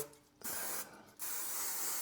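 Cake-release spray coating a baking tin for rye bread, two sustained close hissing bursts separated by a short pause, with no talking.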